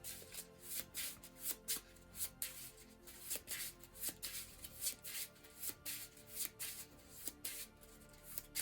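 Cards from a Marvel Legendary deck-building board game being shuffled by hand, a quiet close-up pattern of rhythmic riffles and rubbing swishes repeating roughly every half second, with no talking.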